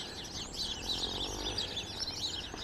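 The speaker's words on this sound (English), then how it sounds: "We must be right by the official bird meeting spot tree here." Many small birds chirp and twitter together from a tree at close range in Big Bend National Park, a dense, continuous chorus of high calls with no talking.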